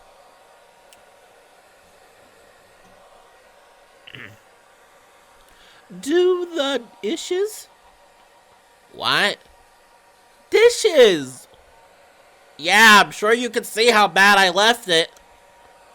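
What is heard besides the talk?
hair dryer running behind a bathroom door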